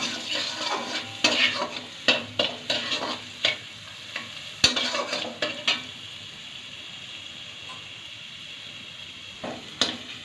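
Okra stirred with a little sugar in a pan of mustard-poppy curry, with repeated scraping and clattering strokes of a spatula against metal over a steady sizzle, loud and close, with a quieter pause midway before a few final strokes.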